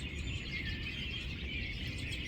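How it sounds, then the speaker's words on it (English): A busy outdoor chorus of robins in early spring, many overlapping chirps and warbles, steady and moderately distant. "Most of them are robins."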